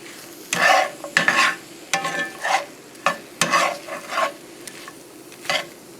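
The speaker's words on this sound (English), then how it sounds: "I always like to cook my eggs just a little bit before I add in the tortillas" Eggs with Spam cook in a pan for migas, with loud close bursts of scraping and stirring against the pan over a soft background sizzle, pausing between strokes.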